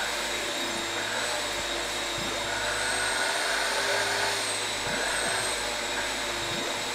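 A shop vac in the video game Gimmick! 2 drones with a steady, continuous whine as it sweeps up plaster and dust, broken by a few soft thuds.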